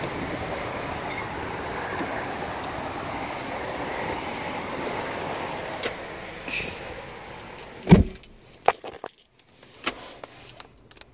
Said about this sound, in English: It's on one of our display pads, so it's right by the freeway, so it's a little bit noisy.